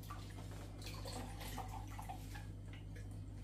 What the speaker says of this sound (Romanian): acum punem tot laptele să iasă acolo